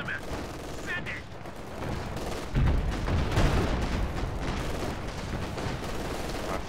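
An artillery barrage in Company of Heroes 2, a dense rumbling roll of distant blasts and gunfire that swells into heavier booming partway through and keeps pounding steadily.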